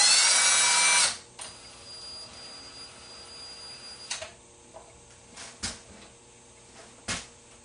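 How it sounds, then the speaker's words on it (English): A power driver runs #6 x 5/8 Phillips head screws into a plastic skull plate on a European deer antler mount. One steady whir at the start gives way to a few short clicks and brief driver bursts, nearby and alone. "We'll go ahead and install our number 6x5/8 screws."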